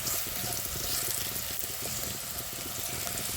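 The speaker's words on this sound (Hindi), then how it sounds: "ये हमारा प्याज बस गोल्डन फ्राई हो गया है" Onions sizzling golden in a pan for chana dal fry, a steady crackling hiss with soft stirring scrapes, fairly close and continuous.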